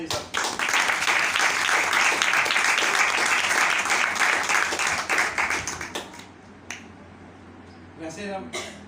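A church congregation breaks into loud, sustained applause and clapping for about six seconds, then it fades into scattered claps, with a brief voice and a short renewed burst near the end.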